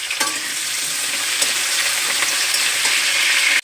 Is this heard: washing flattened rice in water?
no